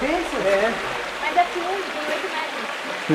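Water from a mountain waterfall pours into a lake in the Peruvian mountains, a steady broadband rush that stays fairly loud throughout, with faint voices beneath the flow.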